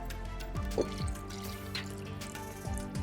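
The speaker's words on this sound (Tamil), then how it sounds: "ஓகே, தண்ணி ஊற்றுவோம்." Water is poured into a masala gravy in a cooking pot, a soft continuous trickling and dripping with faint splashes, fairly quiet throughout.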